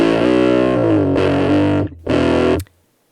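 An electric guitar played through a Boss MG-10 amplifier on a heavy distortion setting gives a loud, sludgy, sustained chord that cuts off, then returns in a short burst before stopping abruptly.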